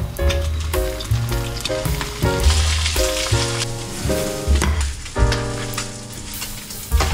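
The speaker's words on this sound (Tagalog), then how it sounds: "Kabilang pan, lutuin ko na yung spam." Spam slices frying in a pan beside eggs for a Filipino-style lunch, giving a steady close sizzle that runs through the whole stretch while musical tones play over it.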